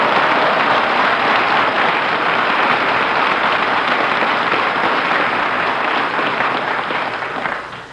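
Sustained applause from a crowd, a dense wash of clapping that holds steady for several seconds and tapers off slightly at the end.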